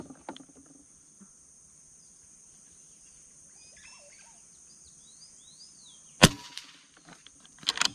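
An air rifle fires Mendoza diabolo pellets at a target outdoors, giving one sharp crack and then a rapid cluster of shots near the end, with birds and insects chirping faintly behind.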